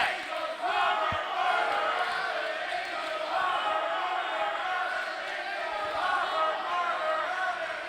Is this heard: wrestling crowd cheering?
yes